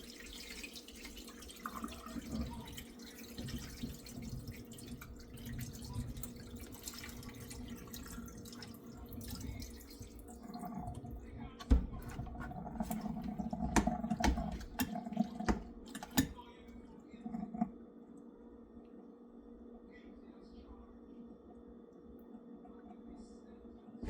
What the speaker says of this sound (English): And draining excess water off of my chicken.